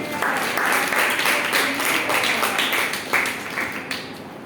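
A church congregation claps together in a dense, even burst that fades slightly toward the end, with no voices over it.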